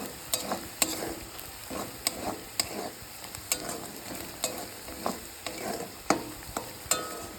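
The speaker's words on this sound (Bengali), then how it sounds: "ধনে গুঁড়ো দেবো হাফ চামচ জিরে গুঁড়ো এক চামচ দিয়ে দেবো দিয়ে ভালো করে ভেজে নেব" Coriander, cumin and chilli powder fry in a pan for dhaba-style egg curry, with regular scraping stirs about twice a second over a soft, constant sizzle, close and alone without talk.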